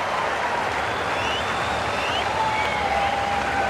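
A stadium crowd at the women's pole vault final of the 2019 World Athletics Championships in Doha applauds a cleared bar, a steady wash of distant clapping and crowd noise with everyone on their feet.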